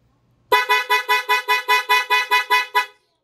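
A Sniper 155 motorcycle horn honks in a fast run of about ten short, even beeps, loud and close, then stops.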